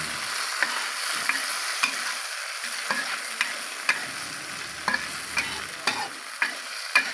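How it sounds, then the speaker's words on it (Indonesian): Chili, shallot, garlic and green chili spice paste for a spicy sambal frying in hot oil while being stirred, a steady close sizzle broken by regular scraping strokes of the spoon against the pan. "Diaduk-aduk."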